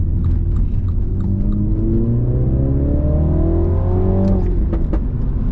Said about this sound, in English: I'll do another second gear pull